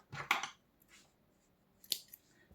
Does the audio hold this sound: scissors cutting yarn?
yes